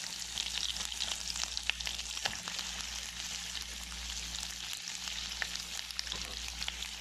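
Lamb ribs sizzle and crackle as they fry in a pot, with a steady, close hiss and frequent small pops. A brief scrape of stirring can be heard partway through.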